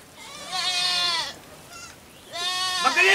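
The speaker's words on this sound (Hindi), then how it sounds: "बकरी रे" A goat bleats twice in a rural setting, two long wavering cries close by and loud, separated by a brief pause with a faint short call between them.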